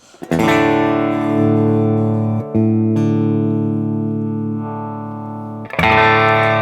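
A sustained, bright electric guitar chord rings loudly through an amp with its treble turned up, giving a crisp, trebly edge, briefly cut and restruck a couple of times.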